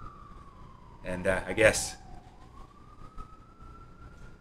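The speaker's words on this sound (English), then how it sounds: "Apologies for the sirens." An emergency vehicle siren wails steadily outside a New York apartment window, rising and falling slowly in the background, while a person speaks briefly over it.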